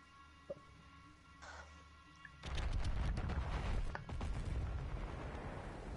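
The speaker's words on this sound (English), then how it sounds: "Holy shit, explosions." Battlefield 1 gameplay: after a quiet start with a few faint pops, heavy gunfire and booming explosions erupt, dense and loud with rapid bursts layered over rumbling blasts that keep going to the end.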